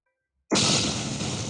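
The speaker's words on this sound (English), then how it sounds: "So the explosion happens, and then it's going to look in the direction." A cartoon explosion from a Toon Boom Harmony animation bursts in suddenly after near silence, a loud broadband blast that roars on and slowly eases.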